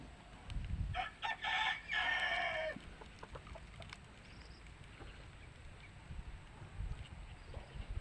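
Rooster crowing loudly near the start, followed by softer chicken clucks and scattered yard sounds at a rural home where chickens are raised.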